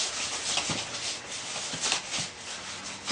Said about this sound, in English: So what I do is put some on the inside, kind of rub it around with my hand.